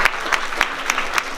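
An audience claps at a film preview screening, close dense applause with sharp regular slaps, steady throughout the short stretch.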